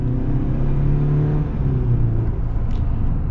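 A 2023 Chevy Silverado 1500 LT pickup with the 2.7-litre four-cylinder accelerates, its engine rumbling and whirring from the cabin with a steady rising drone that holds for the whole stretch.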